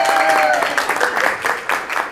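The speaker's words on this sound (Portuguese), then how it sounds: "Uma salva de palmas para o nosso Marcos" An audience at a university summer school session applauds a professor, a brief burst of many hands clapping, with a few voices mixed in.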